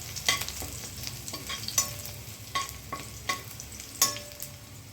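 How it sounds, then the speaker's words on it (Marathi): Crushed garlic frying in a little oil in a kadhai, a soft steady sizzle broken by a series of sharp scrapes and taps as it is stirred. "कढईमध्ये थोडं तेल घातलं आहे, त्याच्यात मी लसूण टाकते। ठेचलेला लसूण चांगला भाजून घ्यायचा ब्राऊन होईपर्यंत।"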